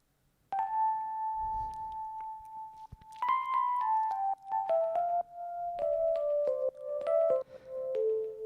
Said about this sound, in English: DX7 solo. It sounds like this.